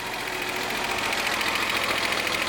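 A Nissan Z engine runs close by with a steady, buzzing mechanical drone and a slight rhythmic knock, holding a fairly constant level without clear revving, no talking.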